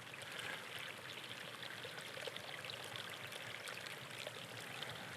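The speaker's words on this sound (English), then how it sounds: "it's wind and water." Outdoors, wind and flowing water make a steady, faint hiss and rush that continues evenly throughout, with no voices or distinct events.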